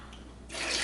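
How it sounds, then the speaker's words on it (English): Tap water runs into a container of Keto Chow powder, starting as a faint trickle and swelling into a steady hissing pour. "Now I'm going to add some water to this"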